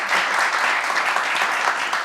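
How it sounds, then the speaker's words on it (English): Dense, steady applause from a conference audience for a women-in-tech panel, sustained loud clapping with no break for the full two seconds. "Another round of applause for our panelists"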